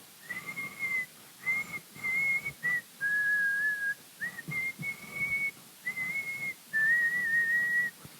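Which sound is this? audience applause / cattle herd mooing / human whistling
human whistling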